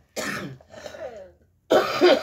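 Two bursts of harsh coughing separated by a short gap with a raspy, breathy throat sound between them, close to the listener.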